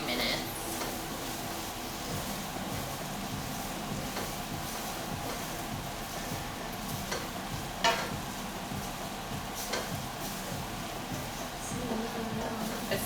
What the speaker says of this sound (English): Stir it for about, let's say, 1 to 2 minutes.